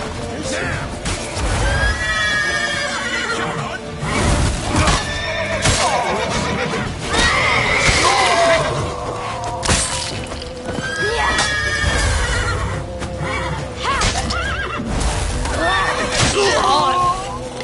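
Horses in the video game The Witcher 3 whinny and neigh repeatedly over the pounding clatter of galloping hooves, loud and close, with crashes and shouting voices mixed into the chaotic chase.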